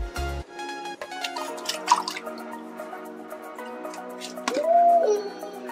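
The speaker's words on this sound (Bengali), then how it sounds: "এবার মাছটাকে ঝপ করে ছেড়ে দিই" A fish drops into a container of fresh water, giving a brief splash followed by dripping, liquid sounds over steady tonal background music.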